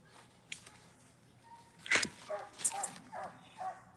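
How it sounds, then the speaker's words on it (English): Young hunting dogs whimper and yip in short, high bursts, mostly in the second half, with a person talking nearby. "2 young dogs in. 2 young dogs out here."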